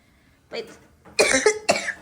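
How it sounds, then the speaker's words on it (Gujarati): A few sharp coughs, close by and fairly quiet, with a softer throaty sound before them. "ખાંસી થઈ ગઈ છે"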